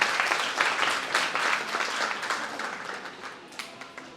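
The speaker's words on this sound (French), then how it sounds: "j'aurais vraiment aimé que vous applaudissiez pour ce moment" An audience claps and applauds steadily, a dense wash of hand claps that slowly fades toward the end.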